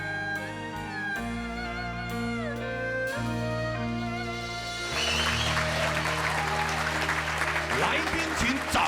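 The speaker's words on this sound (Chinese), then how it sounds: "来宾请掌声鼓励" Audience applause on a stage singing-contest show rises as the closing music fades, becoming a steady, full burst of clapping across the last few seconds.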